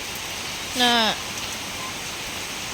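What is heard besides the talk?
heavy rain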